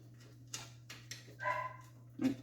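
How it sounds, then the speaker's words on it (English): A dog barks a few times at a distance, short yips spread apart over a steady low hum. "Doggies are barking now."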